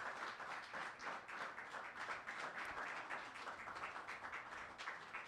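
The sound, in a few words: congregation applauding for the Lord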